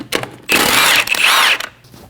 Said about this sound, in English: Using a 17mm socket, remove the 5 lug studs.